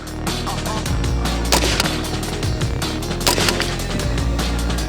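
A few sharp gunshot cracks at a 50-meter target stand out over a constant loud background roar, spaced apart rather than in rapid bursts.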